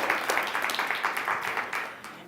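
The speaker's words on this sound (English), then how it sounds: "Big round of applause for an agreement." Audience applause at a live body language show: a dense, steady patter of many hands clapping, fairly close, with no break through the short burst.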